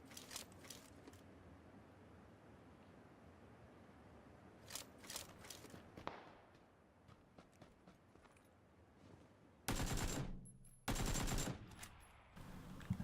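AK rifle fire in a video game, heard as faint scattered shots early on and then two loud, close, rapid automatic bursts near the end.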